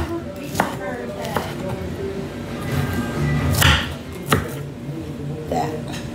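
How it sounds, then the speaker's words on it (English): A knife shreds lettuce on a cutting board for a low-carb lettuce wrap, giving a few crisp, separate chopping taps at close range over low kitchen background noise. "Cut up a little bit of this lettuce."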